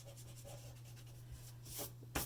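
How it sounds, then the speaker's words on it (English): A pencil circle on paper is rubbed out with an eraser, giving soft, close scratchy strokes in short repeated passes, ending with a slightly louder scrub. "let me erase my circle on the inside."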